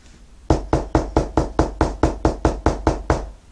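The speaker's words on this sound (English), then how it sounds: "A knock at the door interrupted Abeline's thoughts." Twelve steady, evenly spaced knocks on a door, loud and close, with no other sound around them.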